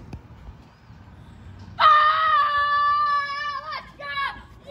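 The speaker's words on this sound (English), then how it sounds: "So just run out there onto the deck and just scream as loud as you can." A child screams loudly outdoors on a deck, a long sustained high-pitched shriek of about two seconds followed by a shorter second yell, both standing out over quiet background.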